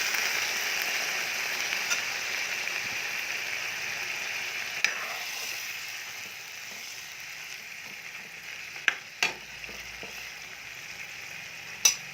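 Chicken manchurian sizzles steadily in a pan after water is added, giving a broad hissing bubble throughout, with a few faint clicks and knocks near the end.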